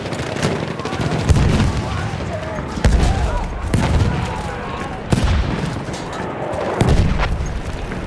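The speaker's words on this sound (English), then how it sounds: "Machine gun, one of theirs." Enemy machine gun fire in Battlefield 1 combat: bursts of gunfire with heavy thumps landing every second or two, close and loud over a constant battle din, with voices faintly mixed in.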